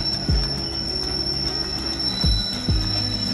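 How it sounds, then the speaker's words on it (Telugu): A train engine approaches in Araku, rumbling steadily with a high metallic squeal of wheels, loud and close, while low thuds from the wheels repeat at intervals. "అదిగోండి ఇంజిన్ చూడండి వస్తుంది"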